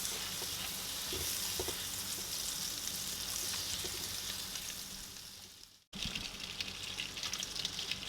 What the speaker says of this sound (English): to a pot, add in the butter. Let it come to a melt.